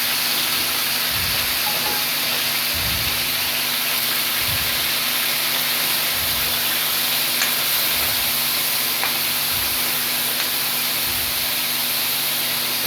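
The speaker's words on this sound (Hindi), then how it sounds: "पूरा ही फ्राई करेंगे हम" Beef liver (kaleji) frying on a hot tawa for Eid ul Adha, giving a steady, continuous sizzle and hiss with faint low thumps of stirring, no talk.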